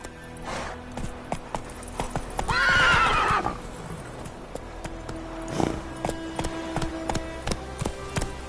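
Roach, the horse in The Witcher 3 video game, gallops with a quick clip-clop of hooves. A sharp neigh rises midway, heard over steady game ambience and music.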